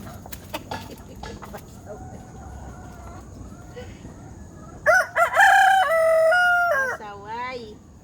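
A neighbor's rooster in a backyard lets out one loud, close crow in the second half, preceded by quieter clucks and a distant crow over faint outdoor background.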